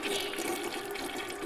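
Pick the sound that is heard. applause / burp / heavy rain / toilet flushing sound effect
toilet flushing sound effect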